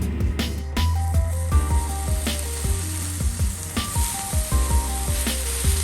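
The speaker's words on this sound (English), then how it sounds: "Let's get that griddle top heated up to around 400 degrees Fahrenheit and start to lay down some bacon." Bacon sizzling steadily on a Blackstone griddle heated to around 400°F, a constant close crackle with frequent sharp pops and spits, no talking.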